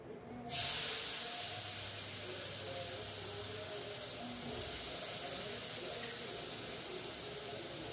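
Nigella seeds temper in hot oil, a sudden loud hiss that rises at once and holds as a steady, close sizzle throughout, with faint low background noise underneath.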